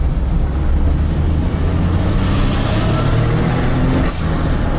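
A Perodua Kancil L900 with a turbocharged 660cc engine and a quiet exhaust runs at a steady, loud drone, with a brief hiss near the end.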